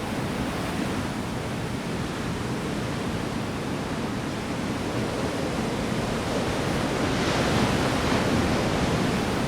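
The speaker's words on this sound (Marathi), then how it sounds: "किनाऱ्यावर गेल्यावर पाहते तर लाटांचं नृत्यच सुरू होतं. थोडा उधाणलेला समुद्र." Slightly rough sea at Achara beach on the Konkan coast at sunset: a continuous broad roar of breaking surf, steady and enveloping, swelling a little near the end, with no voices.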